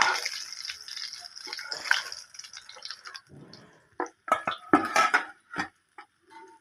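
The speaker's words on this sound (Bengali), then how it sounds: "ভাজা হয়ে গেছে, এবার তুলে নিচ্ছি" Fried fish heads are lifted out of hot oil with a metal utensil, giving scattered clinks against the pan, soft oily crackles and dripping, then several sharper knocks close by.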